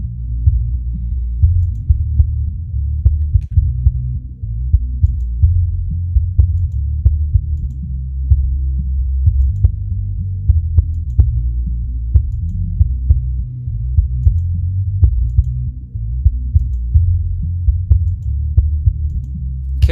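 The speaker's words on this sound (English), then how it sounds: "Kick sounds good." Kick drum track from a multitrack mix, playing alone as a steady, punchy low thump repeating in a regular rock beat, loud and dry with clicky attacks.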